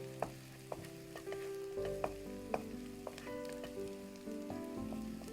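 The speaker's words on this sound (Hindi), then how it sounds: "प्याज को हमें डार्क ब्राउन तो करना नहीं है, हमें सिर्फ सॉफ्ट करना है।" Onions sizzling and frying in a pan while they soften, a steady soft crackle with occasional sharp clicks of a utensil stirring against the pan, fairly quiet and close.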